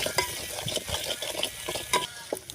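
Spice paste cooking in oil over a clay stove, close sizzling with quick, repeated scraping strokes of a stirring spoon, brief and busy, no talking.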